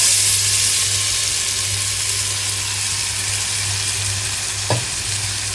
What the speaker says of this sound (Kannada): ಈಗ ಏನೈತಂದ್ರೆ ಬಟಾಣಿನ ಹಾಕೊಂಡ್ರಿ ಇದ್ರೊಳಗನ.